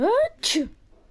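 A single sharp, close sneeze bursts out between short stretches of someone speaking Russian.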